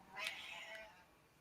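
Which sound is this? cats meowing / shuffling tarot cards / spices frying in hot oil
cats meowing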